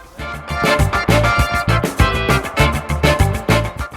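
A Bosch GBH 2-28 rotary hammer in chisel-only mode pounds in rapid, steady percussive blows, loud and close, with a harsh rattling rhythm continuing throughout.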